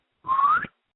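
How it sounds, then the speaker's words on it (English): A person whistles out into the woods to draw a response, producing a single short clear tone that rises slightly in pitch, close and alone against silence. "I tried to whistle out into the woods to see if I could get a response like this."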